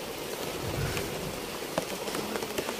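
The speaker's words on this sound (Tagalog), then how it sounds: "Papatinain lang namin ang ulan" Rain falls on banana leaves outdoors, a faint, steady patter with scattered louder drops tapping through the soft wash of noise.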